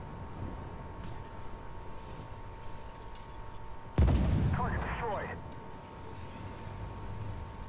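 Tank gun fire in the Armored Warfare game: one heavy, booming shot bursts out of a low rumbling battle bed and fades over about a second, with a voice talking over it.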